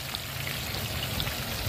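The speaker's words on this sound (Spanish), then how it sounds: "Ya dije que estamos estrenando ese disco friendo el pescado." Fish frying on a brand-new grill disc at an outdoor cookout, giving a dense, steady sizzle and crackle like light rain that runs unbroken throughout, moderately loud with no talk.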